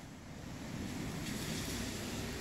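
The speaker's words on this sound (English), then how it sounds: "watching the rain pour down" Steady rain pouring down outside a garage, a continuous broadband wash that holds even and fairly loud throughout, with no voices.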